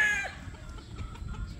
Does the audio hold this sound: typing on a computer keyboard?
no